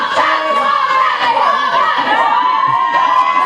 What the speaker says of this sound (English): The crowd trying to put him off.